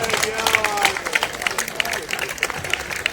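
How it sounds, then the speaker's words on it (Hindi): An audience claps for honourees at a community award ceremony on a Shri Chitragupta Sabha foundation day, a steady patter of applause mixed with voices and a bit of talking early on. "तालियां।"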